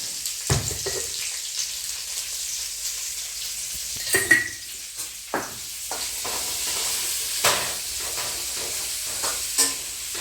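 Sliced onion sizzles in a pan with a little salt, a steady frying hiss broken by scraping stirs and light clinks. The sound is close and alone, with no voices.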